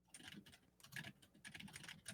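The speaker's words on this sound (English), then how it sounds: "I can hear your keyboard still." A computer keyboard typed on quickly, heard as faint, irregular bursts of clicky keystrokes running through the whole stretch, with no talking.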